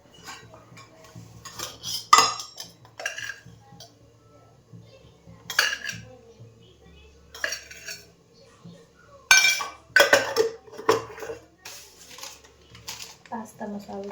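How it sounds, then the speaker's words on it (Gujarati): Pasta is stirred in a pan with tomato puree, giving scattered metallic clinks and scrapes in uneven bursts while someone talks over them. "હવે ફટાફટ પાસ્તા વઘારી લઈએ."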